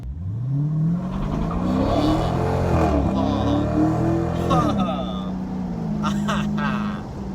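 A car at Circuit of the Americas doing a launch control start, engine revving and climbing in pitch with exhaust pops near the end, loud and close, with a voice over the engine.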